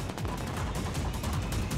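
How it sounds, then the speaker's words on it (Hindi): Fireworks at Independence Day celebrations in American cities crackle and pop in a dense, rapid barrage, a continuous loud rattle of bursts without a break. "अमेरिका में आजादी का जश्न मनाने के दौरान कई शहरों के लोगों ने जमकर आतिशबाजी की"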